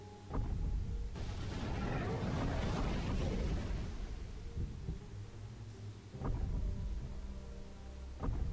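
Gas tanks blow up underfoot in the Godzilla PS4 (2014) video game, a long, loud, rumbling explosive roar lasting several seconds, followed by further heavy booming bursts near the end, with no talking.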